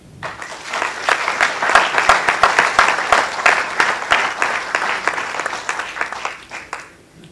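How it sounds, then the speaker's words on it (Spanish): An audience at a congressional book presentation bursts into applause, dense loud clapping that swells quickly, holds steady for several seconds, then tapers off near the end. "Aplausos para Manuel."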